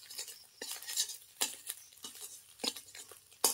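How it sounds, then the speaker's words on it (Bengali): Egg is scrambled and fried in a pan with a series of soft, intermittent scrapes and clinks of a utensil against the metal, fairly faint, over a low sizzle. "ডিমটাকে ভালোভাবে ঝুড়ো ঝুড়ো করে ভেজে নেব"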